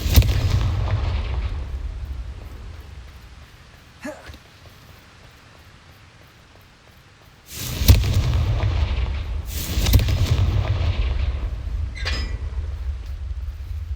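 A Confringo fire spell explodes in Hogwarts Legacy: loud booming blasts strike in quick succession, each with a rumbling tail, after a quieter stretch with a single faint burst.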